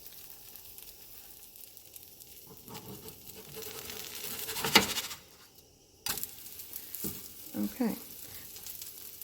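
A gluten-free flour tortilla sizzles steadily in a hot pan, with a few louder clattering moments partway through and a brief word spoken near the start.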